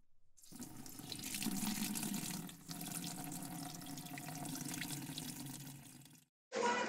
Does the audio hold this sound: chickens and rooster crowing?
no